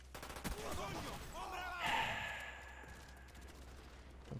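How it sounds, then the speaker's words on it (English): Rapid submachine gun fire in Black Ops, a short burst of quick cracking shots at moderate distance under a busy game mix with a voice talking over it. "Fucking grabbing the submachine gun and going in"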